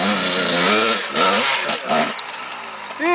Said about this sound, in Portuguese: Agora vai com a moto Marcelo.